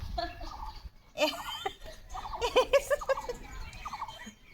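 A live duck at a village market gives a series of loud, nasal honking calls in quick bursts, with quieter gaps and faint background chatter between them.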